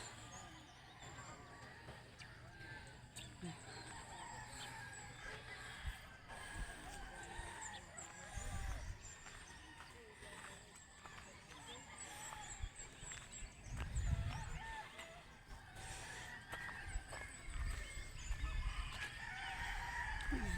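Roosters and chickens crowing and clucking around a rural farm, with bursts rising over a steady outdoor background of birdsong, while a voice talks intermittently.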